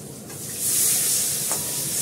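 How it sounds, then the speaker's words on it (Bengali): Water poured into a pan of sautéed fish-head potatoes and onion meets hot oil with a loud, steady hiss and sizzle that swells and holds, with faint stirring scrapes. "এবার একটু জল দিয়ে দেবো"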